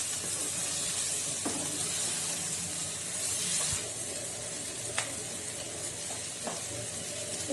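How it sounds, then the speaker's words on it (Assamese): Spices with a spoonful of Kashmiri red chili frying in a pan for a dal and cauliflower curry, giving a steady broad hiss and sizzle with a few faint scrapes and clicks of stirring throughout. "এতিয়া এইখিনি মই এনেদৰে 1 মিনিটমান সময় ভাজি ল'ম"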